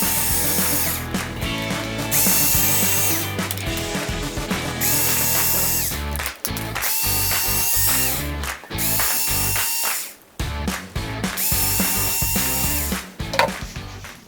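A power tool spins out screws from a servo arm mount, whirring in bursts that start and stop with short pauses between them, loud and close, with no talking.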